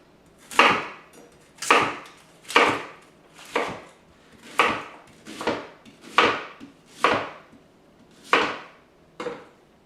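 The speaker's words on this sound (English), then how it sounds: "I'm going to put this in my mouth and just cut up my onion here." Knife chopping an onion on a cutting board in a home kitchen, ten crisp, evenly spaced chops close by with a steady rhythm, no talking.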